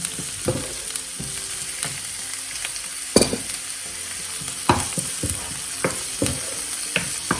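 Chopped onions fry in a pan for an Indian potato and aubergine curry, a steady sizzle broken by sharp scrapes and clacks of a spoon stirring at irregular intervals, close and fairly loud with no voices.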